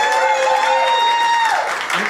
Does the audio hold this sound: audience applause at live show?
yes